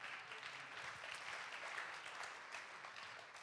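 Audience applause at a holiday concert, a steady, moderately distant wash of many hands clapping that holds evenly throughout without a clear start or end.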